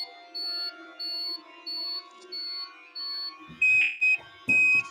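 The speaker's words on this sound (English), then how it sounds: "This is like an alarm clock." An electronic alarm beeps in a steady repeating pattern of short tones, like an alarm clock, then shifts to a higher, louder tone near the end, close and prominent with faint background noise.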